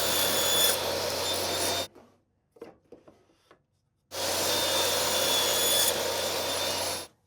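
A power saw cuts wood pieces for a picture frame in two loud, steady bursts of about two seconds each, separated by a quiet gap with light handling knocks.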